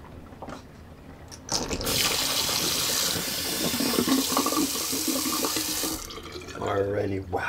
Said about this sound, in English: let's fully empty good old Sigma the Sea Monster sink